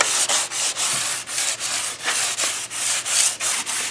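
Fine grit sandpaper scuffs the underside of a Thirdgen Camaro dash cover in quick, regular back-and-forth strokes, a close, even rasping rhythm with no voices.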